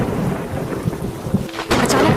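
A cartoon thunderstorm effect with rumbling thunder over a dense hiss of rain, growing into a sharper, louder crack near the end. No voices.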